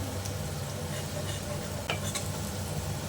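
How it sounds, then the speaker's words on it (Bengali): Onions frying in a pan for mutton biryani give a steady, even sizzle with a few light stirring scrapes, close and continuous with no talking. "পেঁয়াজগুলো আমার ভাজা হয়ে গেছে"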